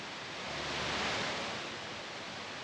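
A hidden waterfall in Ubud, Bali, pours into deep water with a steady, broad, hissing rush that swells slightly midway, fairly near and with no voices.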